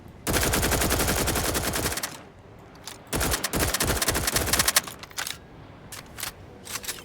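Rapid weapon fire in The Outer Worlds 2, with a long, loud, close automatic burst, a brief pause, another sustained burst and then a few scattered single shots.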